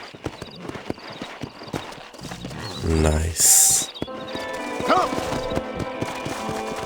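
Hooves of a Kentucky Settler horse in Red Dead Redemption clip-clop steadily under game music and ambience, with a brief snort and a short spoken word from a man.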